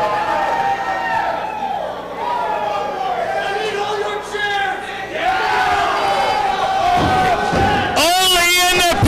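A wrestling crowd at a Pure Wrestling Association barbed-wire-ropes match between two wrestlers cheers and shouts. A commentator talks over the noise, and a sharp slam and a burst of louder crowd noise come near the end.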